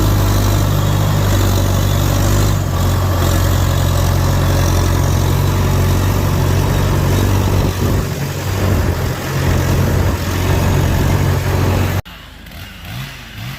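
A warmed-up Stihl 500i chainsaw idles loudly and close by outdoors on a windy day, with a steady throbbing drone throughout before cutting off abruptly near the end.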